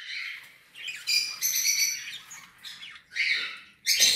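Bird nestlings about 20 to 23 days old chirp in shrill, close bursts of squeaky calls, several overlapping cries repeating with short pauses.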